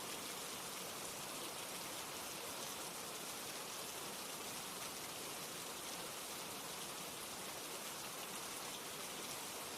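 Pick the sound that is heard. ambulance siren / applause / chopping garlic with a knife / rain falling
rain falling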